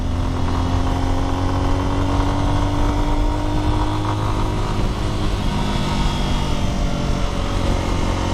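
A Lifan dual-sport motorcycle engine runs close by with a loud, steady drone, its pitch rising slightly as it revs, no voices over it.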